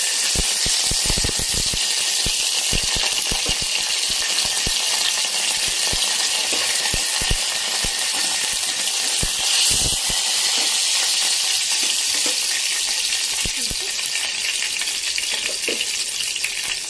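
Curry leaves, cumin, mustard seeds, dried red chili and garlic crackle and spit in hot oil for a tempering, a loud steady sizzle with dense popping bursts throughout and no talking.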